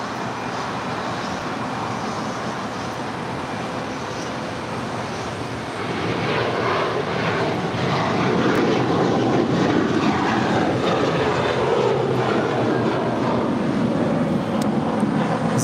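An American Airlines jet takes off from runway 25 right at LAX. Its steady jet roar holds under broadband noise and grows louder partway through, with no talk.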